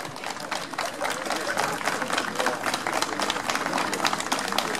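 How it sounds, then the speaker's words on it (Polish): An outdoor crowd at a ski jump opening and medal ceremony claps steadily. The applause is moderately distant and dense, and it continues without a break. "I brawa, brawa od państwa."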